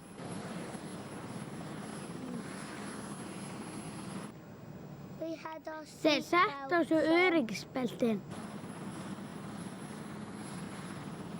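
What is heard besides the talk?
cartoon helicopter engine and rotor noise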